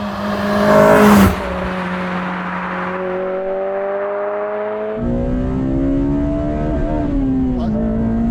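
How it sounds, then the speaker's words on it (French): A Honda Civic Type R FD2 Mugen RR engine, heard from inside the car, revs hard and climbs quickly to a sharp cut at the rev limiter, with rising engine tones through several gear pulls, loud and close. "ça va tellement vite haut dans les tours que très vite on est dans le rupteur"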